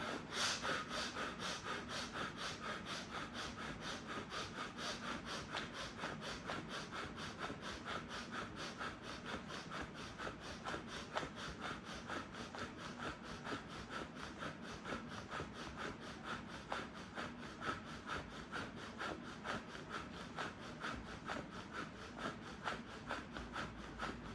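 Hands rub briskly together during a yoga breathing exercise, giving a quiet, steady, rapid swishing friction in an even rhythm with no talking.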